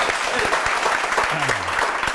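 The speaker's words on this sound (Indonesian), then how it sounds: "Tepuk tangan dulu." A studio audience on an Indonesian political talk show breaks into dense, steady applause, a loud continuous wash of many hands clapping with faint voices underneath.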